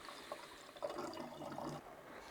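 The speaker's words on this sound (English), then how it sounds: "So I'm now going to top it up to the top of that bottle with water." Water poured in to top up a bottle of homemade port wine, a continuous filling gurgle with a rising tone, close and unaccompanied by speech.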